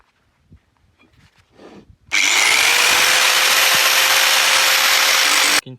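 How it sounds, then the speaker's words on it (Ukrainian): A round pipe is cut along its edge at a 45-degree angle. After a few quiet moments of faint handling noise, a loud, steady, high-pitched cutting whine starts abruptly, runs for about three and a half seconds, then stops. "І по кантику починаємо обрізати."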